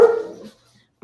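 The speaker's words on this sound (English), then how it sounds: "Don't mind the dogs." A dog barks once, close and loud, at the very start, trailing off within half a second into silence.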